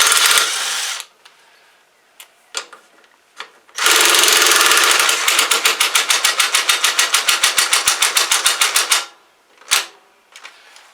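A 1/4-inch impact wrench works the carburetor nuts on a John Deere 262 lawn tractor: loud close whirring bursts, then a long run of rapid hammering rattles that stops abruptly, with short clanks between, no speech.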